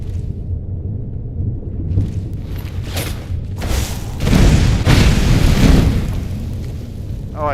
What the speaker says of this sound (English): I noticed he didn't even react when I shot fire at him.